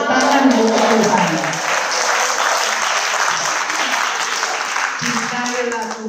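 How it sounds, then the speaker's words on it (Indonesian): Church congregation of women applauding during a sermon on women's role in ministry: loud, dense, sustained clapping from a full crowd, with voices mixed in underneath. "Tepuk tangan buat Tuhan."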